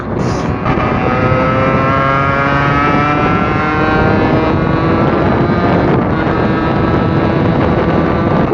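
Beta RR50 50cc motorcycle engine revs continuously while riding, its rising and falling harmonic whine loud and close over heavy wind rush, with no talk.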